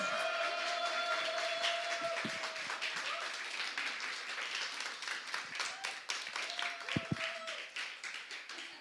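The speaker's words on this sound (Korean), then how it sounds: "우레와 같은 환영과 박수로 우리 인사하도록 하겠습니다." A church congregation gives a guest pastor a welcoming round of applause, with many crisp hand claps forming a steady ovation that gradually thins into scattered claps, along with some faint background tones.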